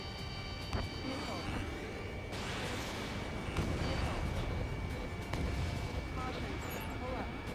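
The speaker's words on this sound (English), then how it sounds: "We're taking fire from multiple enemy tanks!" Enemy tanks fire artillery in the video game Ace Combat 7, a dense continuous roar of distant booms and rumbling gunfire under engine drone, with several heavier thumps standing out.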